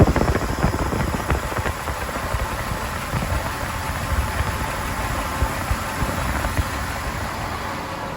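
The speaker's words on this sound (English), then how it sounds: "we can hear the compressor is running for longer periods now and staying on." A Jeep's air conditioning compressor runs steadily after recharging, producing a continuous broadband whirring drone with a faint high whine throughout and no break or cycling off.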